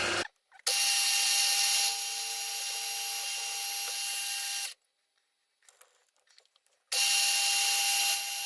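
A power drill whines loudly in two long bursts into a metal bracket held in a vice, separated by a quiet pause with faint clicks, the pitch shifting slightly as it bites.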